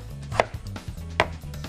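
A knife chops garlic and peppers on a board, two sharp, close cutting strikes about a second apart over a low, steady background hum.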